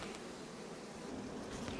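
Constant soft buzzing of Primorsky honeybees actively flying and carrying pollen, a continuous drone at moderate distance.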